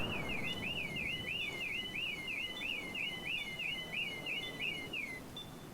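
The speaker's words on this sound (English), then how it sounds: "Yeah, that car alarm." A car alarm wails during a Battlefield 4 tournament match, its warbling siren sweeping up and down in a steady, rapid cycle for about five seconds over a constant background hiss.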